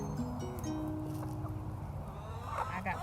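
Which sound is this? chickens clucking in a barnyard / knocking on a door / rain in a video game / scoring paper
chickens clucking in a barnyard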